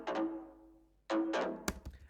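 A roomy, percussive synth layer from a pop music production plays two tonal hits with a decaying ring, followed by sharp clicky percussive transients. It is fairly quiet and heard alone.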